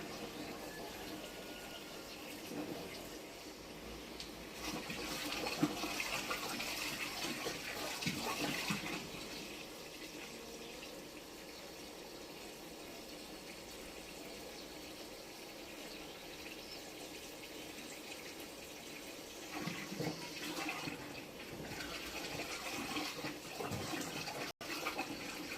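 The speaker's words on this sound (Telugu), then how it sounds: "ఇప్పుడు దానికి సరిపడా మనం నీళ్లు పోసుకుంటున్నాం ఇందులో." Water is poured into a jeevamrutham mix of cow dung, urine, gram flour and jaggery, a steady rushing pour with louder, fuller stretches near the start and the end.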